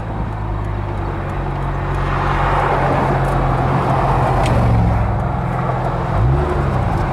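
A 2002 Plymouth Prowler being driven, heard from inside the cabin as a steady low engine drone with road and wind rush. Loud and continuous, with small shifts in engine pitch near the end.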